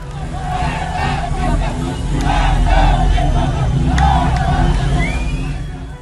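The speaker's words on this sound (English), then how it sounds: "crowds chant slogans once unthinkable inside the Islamic Republic" Large street crowd in Iran chanting political slogans in unison, a loud sustained roar of many voices with rhythmic shouted phrases and a brief whistle, dense and distant-sounding babble throughout.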